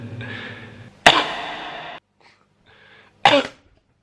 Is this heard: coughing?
yes